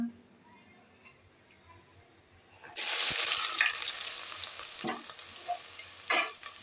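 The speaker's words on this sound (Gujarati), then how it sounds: "પેલા ડુંગળી વઘારી લેશું" Chopped onions drop into hot oil for a vegetable dish: after a quiet start, a sudden loud sizzle erupts and keeps going, with occasional stirring scrapes.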